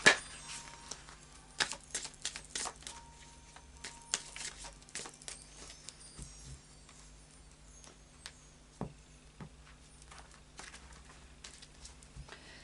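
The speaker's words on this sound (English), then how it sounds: "I'll just do a final shuffle of the Fairy Oracle cards by Brian Froud." Soft, irregular flicks and taps of oracle cards being shuffled close by, scattered in short bursts over a quiet background.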